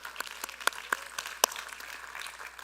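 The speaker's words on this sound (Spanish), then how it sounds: "Vamos a darle un aplauso al Señor por eso." A church congregation gives brief, faint applause: a handful of scattered claps over a couple of seconds in a quiet, reverberant room.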